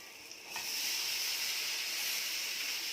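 Chopped snake gourd drops into a hot pan of oil with green chillies, bursting into a sudden loud hiss that settles into a steady, close sizzle for a few seconds.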